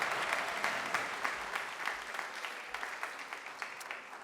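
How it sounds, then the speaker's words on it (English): An audience at a graduation ceremony applauds steadily, many hands clapping at once in a dense, sustained wash of sound. "If we can give them a round of applause, our ACES partners."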